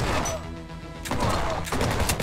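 Shotgun blasts fire in the HyperParasite video game, arriving as a few loud, sharp bursts with a crashing impact. Two clear shots land about half a second apart, with game music and effects running underneath.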